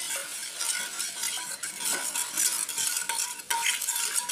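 A spoon stirring a paksiw mixture in a pot while sugar dissolves, giving a continuous close scraping and swishing with small clinks, no talking.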